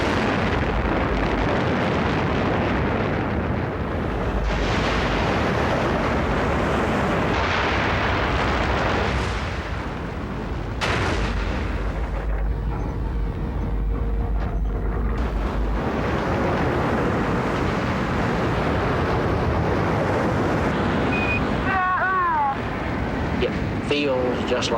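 Played recording of a rocket launch: a deep, continuous engine roar with crackling rumble fills the stretch, broken by brief dips, while a countdown voice talks over it.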